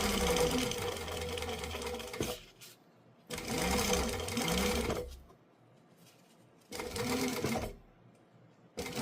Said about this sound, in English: I sewed the zipper at about 5/8. Not a 1/4 inch, because I find it looks better when it's closer to the teeth.